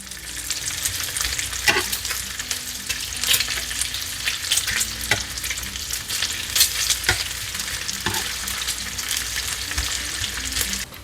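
Bacon frying in a new nonstick pan, a loud continuous crackling sizzle with sharp pops and occasional scraping of a utensil, heard up close for the whole stretch with no talk.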